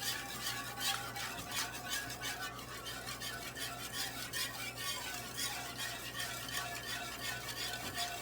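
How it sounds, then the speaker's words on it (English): A spoon or whisk works flour roux in a pot with continuous, soft rhythmic scraping and swishing, faint and close, with no talking. "I'm going to mix it now until it's smooth"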